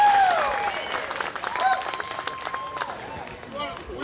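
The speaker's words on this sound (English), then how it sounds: "Give them a warm up, round of applause." Applause from the audience at a festival band contest, a dense crowd clapping close up with cheers and whistles over it, tapering slightly over a few seconds.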